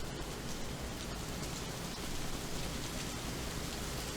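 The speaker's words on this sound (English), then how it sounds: "Ooh, it's raining." Steady rain falls throughout, a dense, even hiss of drops at moderate level with no talk over it.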